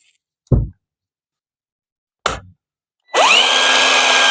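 A cordless drill running on a repacked battery pack: two short clicks or knocks, then the motor whirs up and holds a steady, loud whine, with no voices.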